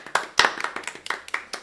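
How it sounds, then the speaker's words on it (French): A single person claps hands close by, about a dozen sharp, slightly uneven claps in quick succession with a faint voice under them. "Ouais, j'ai applaudi."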